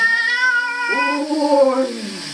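A pet cat meows in a drawn-out, wavering, singing cry, loud and close, rising and falling over about two seconds with no talk over it.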